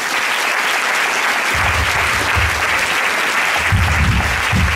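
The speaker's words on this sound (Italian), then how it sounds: "Un bel applauso!" Audience applause at a charity music evening for AIDO Segrate with Radio Free Music Web, a loud, dense wash of clapping from a crowd that runs steadily throughout, with low thumps underneath.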